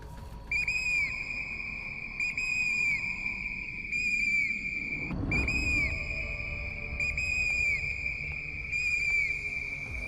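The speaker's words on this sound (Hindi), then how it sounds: "सीटी बजाते, तेज आवाज निकालते, जितनी जल्दी हो सके हम इस इलाके से निकल जाएं।" A shrill whistle is blown repeatedly to scare off bears, leopards and hyenas on a forest trail in Uttarakhand: about six loud, piercing blasts in a steady rhythm, with a brief rustling thump midway.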